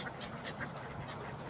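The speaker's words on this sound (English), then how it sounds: "the people are feeding the ducks and the seagulls" Ducks quack repeatedly in short bursts, moderately close, over a steady outdoor background noise at a lakeside in the Lake District.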